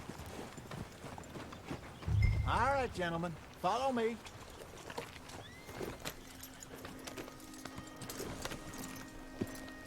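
Horse hooves clip-clop in Red Dead Redemption II, a soft rhythmic plodding under a man's brief spoken line and other low voices, with quieter ambient sounds between.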